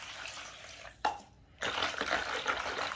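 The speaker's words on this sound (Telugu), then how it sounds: "నీళ్ళు వేసుకొని" Water poured into curd to make buttermilk, a soft trickle that pauses with a clink of the vessel, then a fuller, close, quiet splashing pour.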